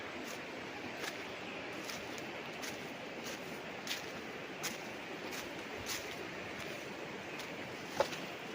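A river rushing past a farm in Majayjay, Laguna, a steady broadband wash of flowing water heard close and continuous, with occasional faint clicks and bumps on top.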